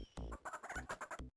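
Chickens in a video game cluck in quick, close bursts, several rapid squawks in a row before cutting off abruptly.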